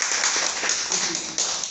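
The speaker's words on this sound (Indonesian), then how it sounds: "Tepuk tangan dulu dong" An audience claps together during a presentation introducing a hybrid cryptocurrency concept: a brief, dense, steady patter of many hands, fairly loud and close, lasting under two seconds.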